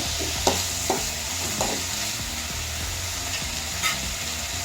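Fish curry masala fries in a pan, giving a steady hiss and sizzle throughout, with a few sharp scrapes and clinks of a spoon stirring against the metal.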